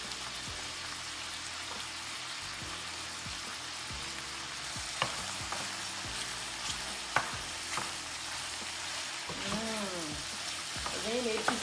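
Spring onion and celery stir-fried into fried rice with meat, a continuous hissing sizzle like rain with repeated spatula clanks and scrapes, a voice faintly underneath.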